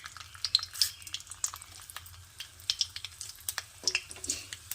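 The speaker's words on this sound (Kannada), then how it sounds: "ಎಣ್ಣೆ ಕಾದಿದೆ, ಇದಕ್ಕೆ ಸಾಸಿವೆ, ಕಡಲೆಬೇಳೆ, ಉದ್ದಿನಬೇಳೆ" Mustard seeds, chana dal and urad dal frying in hot oil, with bright irregular pops and crackles over a soft steady sizzle, close and fairly quiet.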